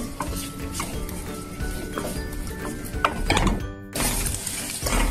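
A spoon stirs Kerala-style beef fry in oil in a metal pan, clattering and scraping in repeated close strokes over a steady sizzle, with a brief pause before the stirring resumes.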